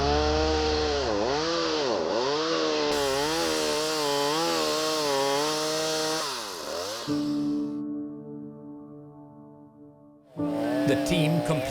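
A power saw trims a rhino's keratin horn during a dehorning procedure, its engine loud and whining with rising and falling revs, then dropping to a lower idle hum before roaring back up at the end.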